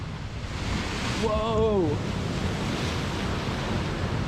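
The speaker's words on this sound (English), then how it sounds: "these waves coming in here are scary" Sea waves crash against a rugged Scottish coast: a continuous loud surging roar close by, with a man giving one brief startled exclamation over it.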